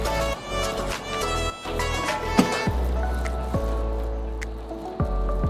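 Wet, squishy slaps and squelches as hands press and shape a ground chicken mixture into burger patties, several soft pats close by with no talking.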